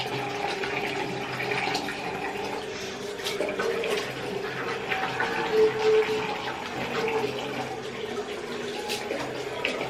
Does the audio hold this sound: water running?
yes